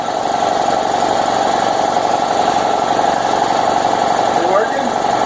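An air compressor runs steadily in a shop while pumping up, a constant droning motor hum with a tonal whine that holds level throughout, with brief faint voices near the end.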